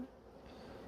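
Honey bees hum steadily around a queen nuc, a close, continuous buzz with no break.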